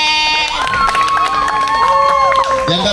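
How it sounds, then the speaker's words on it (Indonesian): Students cheering and applauding for group Musa, a loud crowd of young voices shouting and whooping with clapping mixed in, sustained throughout. "Oke, tepuk tangan dulu buat kelompok Musa."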